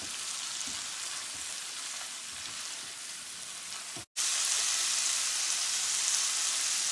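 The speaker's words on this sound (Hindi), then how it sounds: "इन सारी चीज़ों को 3 से 4 मिनट के लिए मीडियम फ्लेम पे कुक करना है।" Vegetables and spices fry in a pan over a medium flame, an even, dense sizzle that runs without talk, briefly cutting out and then returning a little brighter and louder.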